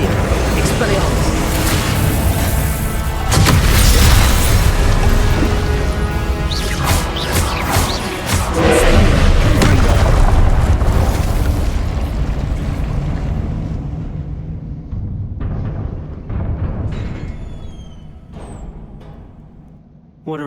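Spell combat in Hogwarts Legacy with Confringo and Incendio casts: a rapid barrage of loud blasts, crashes and whooshes for about twelve seconds, then thinning to scattered hits and fading quieter, with spoken incantations shouted throughout.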